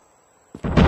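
A grenade explodes in Call of Duty Mobile as a single sudden loud burst, close and heavy, rising sharply after near silence.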